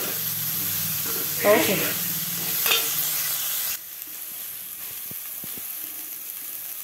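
Turmeric, coriander leaves and fenugreek leaves sizzle in a frying pan for a village-style dondakaya (ivy gourd) curry, a steady close hiss with stirring scrapes, a brief spoken word, then a quieter, softer sizzle in the second half.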